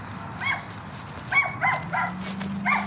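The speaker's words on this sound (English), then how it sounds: "Got a lot of dogs barking over here." Several dogs bark from a distance behind a residential backyard fence, short repeated woofs in irregular bursts over steady outdoor noise and a low engine drone.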